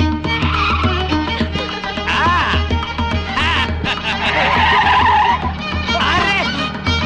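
A lorry is driven hard at high speed in a Telugu film scene, with loud engine roar and tyre noise layered under music, and voices join in throughout.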